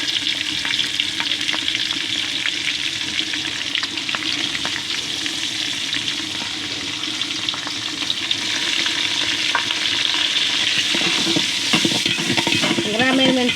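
Onions with chopped ginger and green chillies fry in oil for pulao, a steady close sizzle with scraping stirs, growing busier toward the end.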